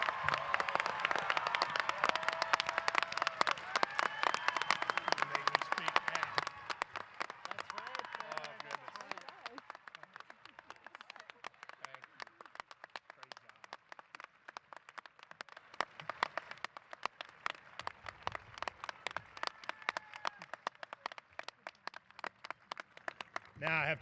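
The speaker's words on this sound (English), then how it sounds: "Please give Mr. Baylor a round of applause" An audience at a high school graduation applauds, dense clapping that starts strong, thins into scattered claps, then swells again, heard from within the crowd with voices speaking over parts of it.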